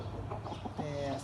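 Soft, brief clucks from domestic chickens kept as home birds, a few quick notes ending in a slightly longer call, faint and close with background hum.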